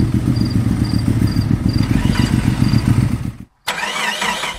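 Car engine in the Sakura School Simulator game cranking repeatedly without catching, a rapid rhythmic churning with a faint periodic beep, ending in a sudden brief silence before a different sound resumes.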